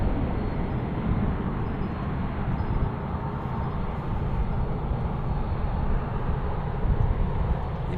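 United airliner on the runway at Albuquerque's Sunport airport, a steady, broad jet engine roar heard from a distance, constant in level for the whole stretch with no talk.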